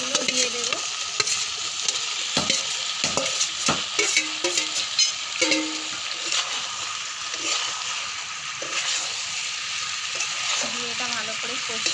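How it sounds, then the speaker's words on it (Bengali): Fried chicken pieces sizzling in a pan as they are stirred, steady frying hiss with scraping and clinking strokes, close, with a voice briefly audible. "এতে এবার এই চিকেন ফ্রাইগুলো দিয়ে দেব।"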